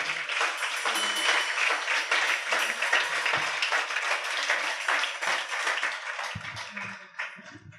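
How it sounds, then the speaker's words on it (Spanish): Church congregation clapping in praise during a Spanish-language service, sustained dense applause with voices mixed in, easing toward the end. "Levante sus manos sobre su cabeza y comience a aplaudir la gloria de Dios en esta hora."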